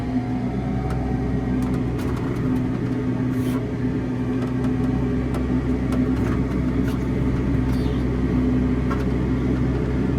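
A Hagie sprayer, used for spraying soybeans, backs up with its engine running in a steady, loud, close low rumble that holds without break.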